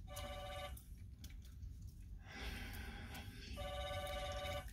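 A receptionist's desk telephone rings in two bursts of electronic trilling tones separated by a short pause, fairly quiet and heard alone without talk.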